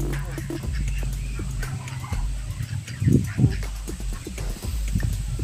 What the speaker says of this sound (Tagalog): Manok, may manok.